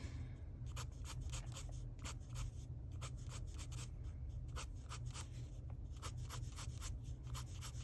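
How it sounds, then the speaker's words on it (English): Prismacolor colored pencil scratching across paper, a close, steady series of soft scraping strokes with brief pauses as the pencil is turned. "with your Prismas, because they lose their point so quickly, you do want to make sure you're turning your pencil quite a bit."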